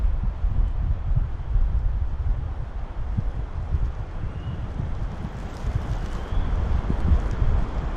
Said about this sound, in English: That wind is picking up.